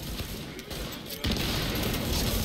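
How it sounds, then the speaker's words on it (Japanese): Explosions in the video game The Division burst as a loud, broadband roar, with a sudden sharper blast midway that leaves a sustained rumbling wash of noise behind it. "すごい爆発してる"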